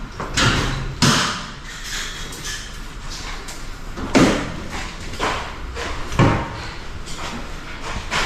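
A door is handled during a house inspection at a new housing project, giving a series of loud knocks, thuds and scraping bumps at irregular intervals, with faint voices in the background.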